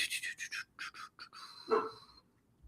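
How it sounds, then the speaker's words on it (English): A pet dog, heard close up, makes a quick run of short yips and whimpering cries, followed by one longer whine, with quiet gaps between them. "I'm sorry about my dog."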